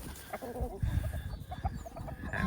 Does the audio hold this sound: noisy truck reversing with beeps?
no